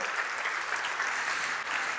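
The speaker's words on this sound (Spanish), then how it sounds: "Aplaude fuerte al Señor." Steady, dense applause from a church congregation during a sermon, loud and sustained throughout with no voices standing out.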